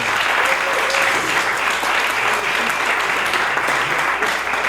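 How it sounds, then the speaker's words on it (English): Steady, loud audience applause at a housing discussion event, continuous clapping from a full room sustained for several seconds with no break. "How about a round of applause for John Schneider?"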